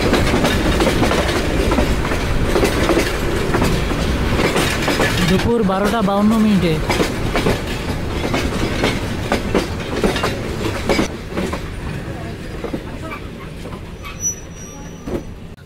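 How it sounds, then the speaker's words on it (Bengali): A passenger train pulls into Gafargaon railway station running late, with rumbling wheels, rhythmic clatter and a brief wavering squeal, fading slightly toward the end; a voice speaks briefly. "38 মিনিট বিলম্বে ট্রেন প্রবেশ করছে গফরগাঁও রেলওয়ে স্টেশন"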